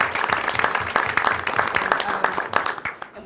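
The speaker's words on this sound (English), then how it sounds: "So first I want to give you a round of applause for all." Audience applause for school volunteers at a school district board meeting, a moderate burst of scattered clapping with some overlapping voices, fading slightly toward the end.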